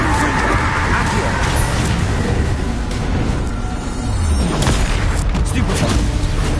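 Spell blasts from the fire-based Confringo curse in Hogwarts Legacy, a dense barrage of booming impacts and crackling bursts over steady game music and effects, loud and continuous with overlapping hits.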